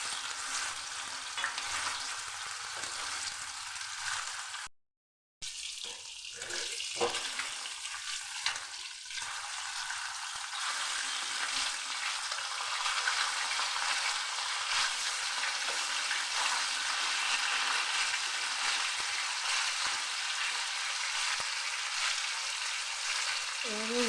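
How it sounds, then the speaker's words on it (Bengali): Pieces of silver carp fry in hot mustard oil in a pan with a loud, continuous sizzle and crackle, interrupted by a brief gap of silence early on. Occasional stirring or turning noises break through the sizzle. "এবার আমি গরম তেলের মধ্যে দিয়ে প্রথমে মাছ ভেজে"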